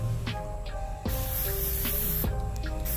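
Spray paint hisses from an aerosol can outdoors for a Halloween DIY project, loud close bursts with short breaks between sprays.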